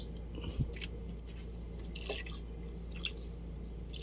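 Coconut palm tuba vinegar poured into a cooking pot for milkfish and okra paksiw gives a few faint, close drips and small splashes over a quiet background.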